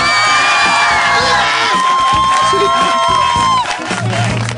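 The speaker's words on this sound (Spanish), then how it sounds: "A Fuerte el aplauso para Retelin." A TV studio audience cheers, whoops and applauds loudly for a performer, with high excited shouts over a continuous crowd roar that eases slightly near the end.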